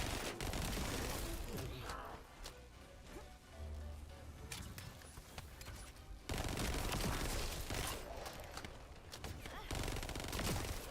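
Sustained rapid gunfire from a weapon emptied in the game The First Descendant, loud, dense bursts over about eleven seconds with a brief lull midway, mixed with game effects and occasional speech.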